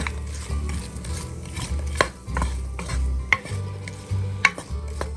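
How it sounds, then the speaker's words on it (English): Chopped onions stirred in melted butter in a pan while making New York style Coney Island wieners, with scraping utensil strokes and sharp clinks against the pan over a low sizzle, close and alone with no talk. "We're going to give it a stir."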